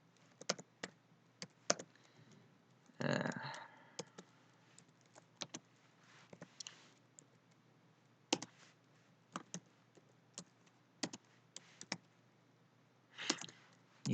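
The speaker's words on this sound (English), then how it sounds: "I'm going to type console.writeLine." Computer keyboard keys clicked one at a time in sparse, irregular taps while typing code, close but quiet, with a short burst of heavier clatter near the start and another near the end.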